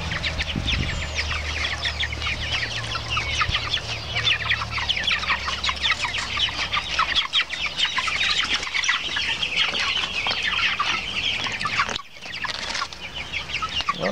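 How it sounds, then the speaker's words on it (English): A flock of free-range chickens clucks and chatters continuously nearby, a busy overlapping chorus with occasional wing flaps and no talking. "I'm actually looking at these free-range chickens here"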